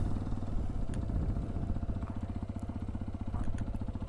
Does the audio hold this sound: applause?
no